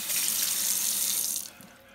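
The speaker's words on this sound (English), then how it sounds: "And get some water." Tap water runs steadily into a container while pineapple tops are being prepared for rooting, a loud continuous splashing rush that cuts off sharply near the end and leaves only a faint trickle.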